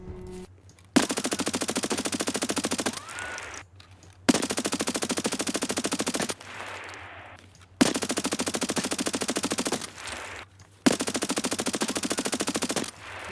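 Four long bursts of rapid automatic gunfire from an AS VAL rifle in the video game Escape from Tarkov, loud and close, each a few seconds long with short gaps between them.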